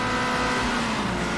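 A car drives in the video game 007: Agent Under Fire, with a steady, loud engine drone and a sustained tonal hum and no break over a short stretch.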